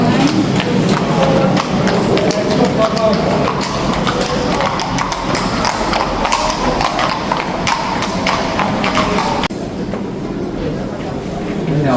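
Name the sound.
horses' hooves clip-clopping at the Hofburg Palace, Vienna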